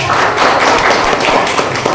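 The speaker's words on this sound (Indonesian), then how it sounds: "tepuk tangan untuk kelompok 1" A classroom of students applauds a group, a dense, continuous burst of hand clapping that fills the room at close range for the whole moment.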